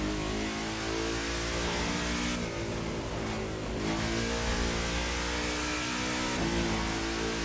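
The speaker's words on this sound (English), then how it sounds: "let's hear that engine." A BMW M8 engine in The Crew 2 revs and roars continuously, rising and falling in pitch as it accelerates, with no talking.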